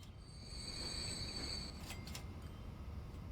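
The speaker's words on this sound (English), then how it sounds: "Celebratory gas train is working nicely." Gas freight train running in the Transport Fever simulation game, a faint low rumble of rolling wagons with a thin high wheel squeal that fades out midway, followed by a couple of brief metallic clanks.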